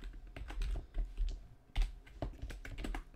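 Keys clatter on a computer keyboard at close range in irregular bursts of quick clicks with short pauses between them, with no one speaking.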